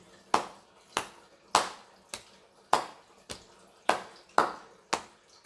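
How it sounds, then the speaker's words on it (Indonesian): Crisp hand claps in a set concentration pattern used by a high school class ring out in a quiet room, about ten sharp strikes in an uneven but repeated rhythm with no talking. "sekelas itu akan langsung secara otomatis melakukan tepukan. Tepukannya seperti ini."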